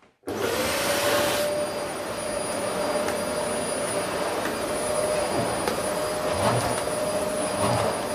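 A refurbished Vax Power Compact vacuum cleaner switches on abruptly and runs on carpet with a steady, high, whining roar and a thin tonal hum, faint bumps as it moves.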